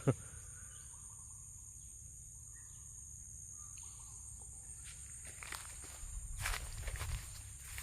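Footsteps crunch along an outdoor path at a papaya plot in rural Isan, Thailand, a steady soft shuffle under a constant insect drone, with louder rustling steps toward the end.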